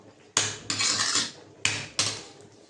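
Potatoes frying in a pan with turmeric and salt: four loud, close bursts of scraping and hissing as a spatula tosses them, separated by quieter gaps.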